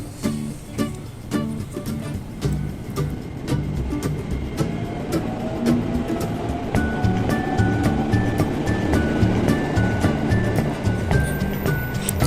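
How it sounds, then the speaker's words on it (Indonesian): An empty train rumbles into a station near Bogor, Indonesia, with rhythmic clacking of wheels over rail joints, the rolling noise growing louder and a faint squeal rising as it nears. "sudah datang kereta tanpa penumpang tuh kan, lihat kereta tanpa penumpang"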